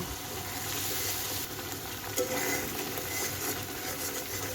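Garlic and ginger paste with spices sautéing in a pan for spicy pulao, a steady close sizzle and frying hiss with a few stirring scrapes throughout, no talking.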